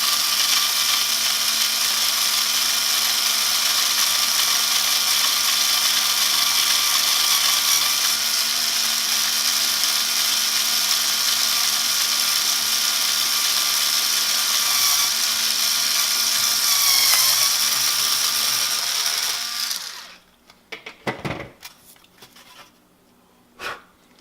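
A power drill bores a 1/4 inch hole through a pilot hole in a control panel, a loud steady high whine held for about twenty seconds, then stopping abruptly and followed by a few light clunks.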